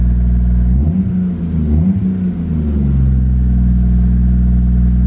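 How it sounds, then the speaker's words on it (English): A 1JZ-engined drift car revs loud and close, the engine climbing and dipping through a few blips before settling into a steady, rumbling idle-level drone. "it revs way nicer now"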